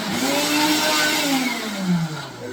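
A blender grinding and crushing ice for halo halo, a loud, close, continuous whirring roar whose motor pitch sags and rises as the ice jams and breaks.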